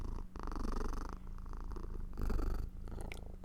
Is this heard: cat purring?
yes